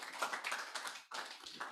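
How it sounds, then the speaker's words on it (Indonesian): A church congregation claps for Jesus during a sermon, a dense run of overlapping hand claps that pauses briefly before resuming, moderately distant. "Tepuk tangan bagi Yesus."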